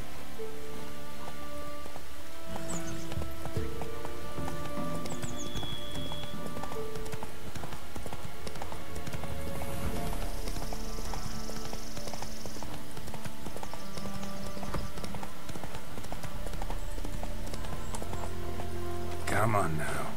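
Roach, the horse in The Witcher 3 video game, clip-clops with steady hoofbeats under rain, game music and someone talking over the top.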